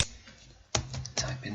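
A few soft clicks of typing on a computer keyboard, close by and quiet, with a short pause before the keystrokes pick up.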